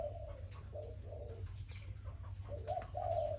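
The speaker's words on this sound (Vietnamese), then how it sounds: "Chim con này nó gù khủng nhất." A spotted dove coos in repeated low, hollow phrases, several calls in steady succession against a constant background hum, fairly close and moderately loud, with no talking.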